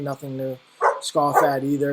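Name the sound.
dog barking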